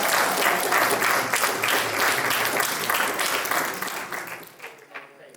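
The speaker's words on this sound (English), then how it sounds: "give everybody a round of applause" An audience at a public speaking workshop claps in a dense, sustained burst of applause that gradually thins and fades toward the end, with some voices mixed in.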